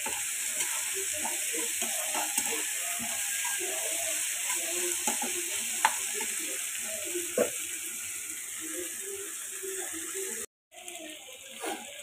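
Shrimp and leafy greens frying in a pan, a steady close sizzle with scattered crackles and the scrape of stirring throughout, cut by a brief gap near the end before the sizzling resumes.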